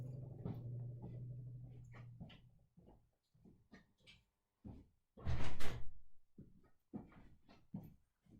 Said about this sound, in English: All right, I opened the door.